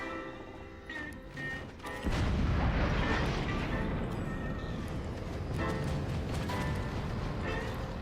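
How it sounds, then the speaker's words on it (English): Heavy cannon fire in the artillery strategy game Forts, a dense, continuous barrage of booms and crashing impacts that swells loudly about two seconds in and keeps rumbling steadily. "hearing those cannons just sing from the teammate"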